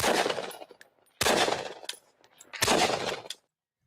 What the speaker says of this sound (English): Drones also target heavy gunfire.